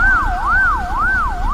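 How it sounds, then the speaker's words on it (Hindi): Ambulance siren sound effect, loud and close, a smooth wailing tone sweeping up and down about three times in steady rhythm with no talking. "एम्बुलेंस की आवाज"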